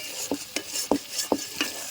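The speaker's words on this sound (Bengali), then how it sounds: "এ দেখুন আমার মশলাটা কি সুন্দর ভাজা হয়ে গেছে।" Masala for shahi paneer being stirred as it fries in oil, with a spoon scraping the pan in five distinct strokes about every third of a second over a steady soft sizzle.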